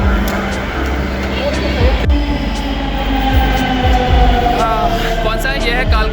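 A Delhi metro train at Kalkaji metro station rumbles and hums with steady mechanical noise, faint wheel squeals and announcement-like tones, loud and close throughout, with people talking in the background.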